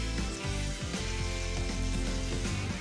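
Brisket sears in a hot pan on medium-high heat, a constant close sizzle and spatter with a dense low rumble running underneath, steady and loud for the whole stretch with no voices.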